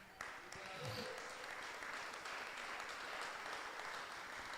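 A church congregation claps together after a call to applaud, a dense even patter at moderate level that sustains the whole time, with voices mixed in.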